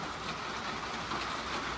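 Rain falling outdoors in a steady, dense patter, a soft constant hiss of drops on surfaces close by, with no voices.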